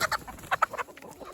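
Several chickens, including composting birds and a barred rock rooster among them, cluck in short bursts close by on a farm, with no talk over them.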